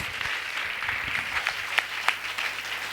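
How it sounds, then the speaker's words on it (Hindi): An audience claps at a prayer festival, giving a hearty round of applause with a few sharper, louder claps standing out from the steady patter. "जोरदार ताली बजाकर प्रभु को धन्यवाद"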